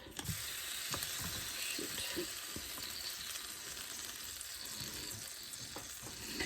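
Pork tenderloin sizzles steadily in a pan of hoisin glaze, with repeated soft scrapes and clacks as the meat is flipped and tossed; a continuous close hiss runs throughout with no talking.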